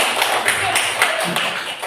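Students in a classroom clap for a presenting group, a brisk patter of overlapping hand claps filling the short span with steady, fairly loud energy and no clear pauses.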